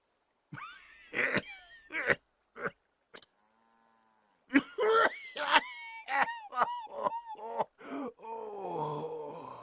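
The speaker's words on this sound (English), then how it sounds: "I'm not laughing at the old man coughing" An old man coughs and groans in the Octopath Traveler video game, with several rough, strained vocal bursts broken by a pause and followed by a longer wheezing, moaning stretch.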